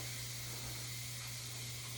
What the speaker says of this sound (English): We are getting all of this steam out.